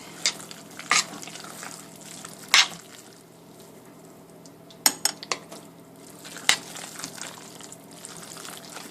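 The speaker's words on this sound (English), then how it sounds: "Now I'm just going to add small amounts at a time and stir it in until it's well incorporated" Sauerkraut is stirred into a Reuben casserole mixture in a pan: a few sharp spoon-against-pan clinks and scrapes at irregular intervals over a quiet, soft squelching background, with no talk.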